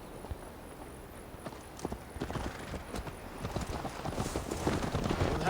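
Horse hooves clip-clop at a steady ride in Assassin's Creed Valhalla, set in medieval England, with a continuous rhythmic stream of hoofbeats close by that grows slightly louder, accompanied by faint tack rattle.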